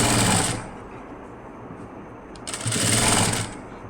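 Sewing machine stitching the lining along a blouse neckline, running in two loud bursts with a quieter pause in between, close up and with no talking.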